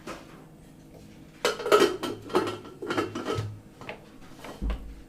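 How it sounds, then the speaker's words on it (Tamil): A pressure cooker lid is set and clattered shut on a pot of fenugreek leaves and lentils: a few close metallic clanks and knocks in quick succession, with a softer thud near the end and no talking. "இப்போ குக்கரை மூடி போட்டு ஒரு 4 விசில் வர வரைக்கும் வேக வச்சு எடுத்துக்கலாம்."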